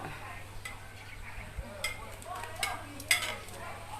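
Bell peppers, holy basil, shrimp and squid are stir-fried in a pan with a soft sizzle underneath, broken by scattered clinks and scrapes of a spatula against the pan.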